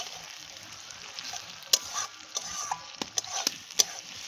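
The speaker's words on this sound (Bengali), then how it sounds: "এটা একটু ভাজা ভাজা হবে কিছুক্ষণ" Vegetables with tomato frying in a pan, a low continuous sizzle broken by sharp scraping and clinking strokes of a spatula as they are stirred, irregular and close.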